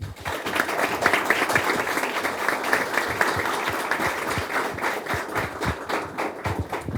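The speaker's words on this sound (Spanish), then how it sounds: "Si podemos venir a recibirlas con un fuerte aplauso." Audience at a debate event applauds, a sustained wash of clapping from a crowd with some individual claps standing out, steady throughout with no speech over it.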